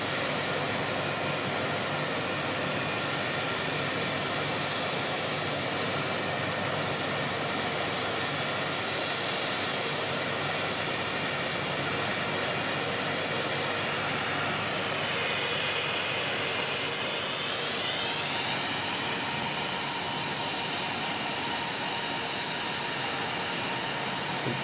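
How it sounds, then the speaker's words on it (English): A Fiji Airways Airbus A330-300 jet at Auckland Airport gives a continuous loud engine roar with broadband rumble, and a rising whine swells near the end as the aircraft passes. "Fiji coming with the A330-300 today."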